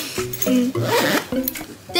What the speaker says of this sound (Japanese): ここにもね、チャックがあって